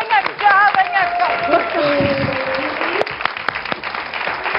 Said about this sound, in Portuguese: um grande aplauso